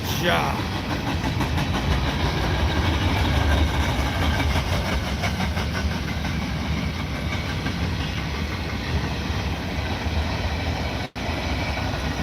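A CSX freight train, the Q560 hauled by several locomotives, rumbles past close by in a steady, continuous roar of engines and rolling cars lasting throughout, with a brief dropout near the end.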